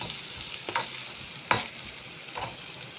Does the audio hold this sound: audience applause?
no